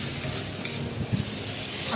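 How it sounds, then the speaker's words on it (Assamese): Spices, garam masala and mustard paste fry in a pan with a little water for a fish thali, giving a steady close sizzle with soft stirring scrapes throughout. "এয়া চাওকচোন, মোৰ মছলাখিনি আৰু সৰিয়হ গোটেইখিনি ধুনীয়াকৈ এতিয়া ভাজ খাই গ'ল।"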